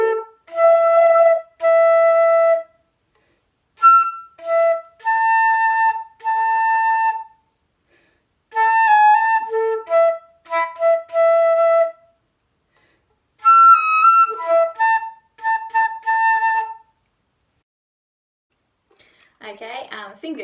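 Flute playing a Grade 4 exam tune with the grace notes left out, clear sustained notes in short phrases separated by pauses, fairly close and alone, with a brief noisy rustle at the end.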